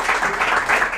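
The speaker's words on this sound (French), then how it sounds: "Est-ce qu'on peut l'applaudir très fort pour ça?" Audience clapping at a school competition, a brief, even wash of many hands applauding at moderate loudness with no clear gaps.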